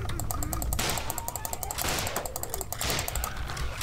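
Shotgun fire in the horror video game Nightmare House 2, with rapid loud gunshots pounding over busy, noisy game sounds.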